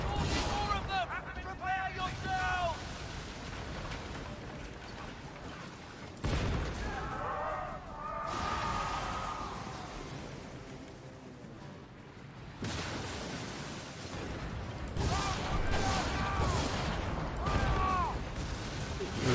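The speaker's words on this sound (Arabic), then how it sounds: "نشوف نستخدم مدفع الهاون بهالاتجاه" Mortar fire in the pirate naval game Skull and Bones, several bursts of booming, crackling impacts arriving in separate clusters, with someone talking in Arabic throughout.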